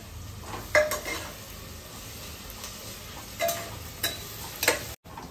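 Chopped onion sautéed in a pan for chicken biryani, cooked until pink, gives off a faint low sizzle while a spoon scrapes and clinks against the pan every so often, with no voices.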